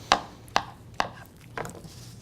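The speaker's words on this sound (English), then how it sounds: "Go ahead and chop this last one up here." Bananas sliced with a knife on a board: four crisp, evenly spaced chops, close and clear against a quiet background.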